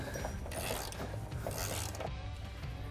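A steady mechanical ratcheting and grinding of a bolt being removed during a Rock Slide Engineering step slider install on a Jeep JT/JL, continuous and fairly close.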